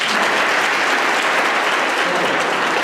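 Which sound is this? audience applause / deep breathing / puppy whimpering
audience applause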